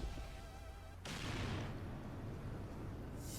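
A sudden deep, rumbling blast cuts in abruptly and lingers as a broad roaring wash, loud against a steady background tone in the Roblox game map Shellbound.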